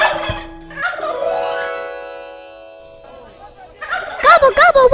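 A turkey gobbles in bursts of rapid warbling calls, with sweeping high tones in between and a fresh run of gobbles near the end.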